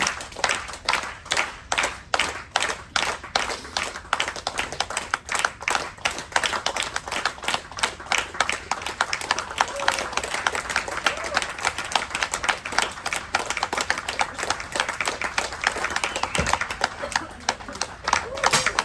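Audience claps along in a steady rhythm at a stage show, sharp regular beats that grow quicker and fuller over time, with a voice calling out and crowd noise mixed in.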